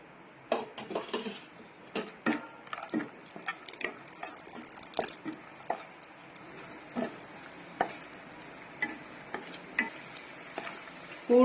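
Cashews fry in ghee in a pan on a gas stove, a soft steady sizzle broken by repeated scraping and stirring clicks of a utensil against the pan, close and fairly quiet, with no talking.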